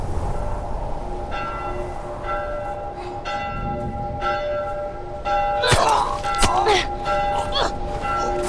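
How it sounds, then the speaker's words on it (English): A church bell rings repeatedly in The Last of Us video game, evenly spaced metallic strikes with long ringing tails, fairly loud, with a few sharp knocks and thuds near the end. "You've got to assume that that bell is going to make it harder to hear things."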